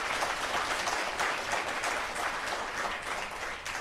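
An open mic audience at a Chinese New Year event claps together, a dense, lively burst of many hands that stays fairly loud and even for a few seconds, with no talk over it.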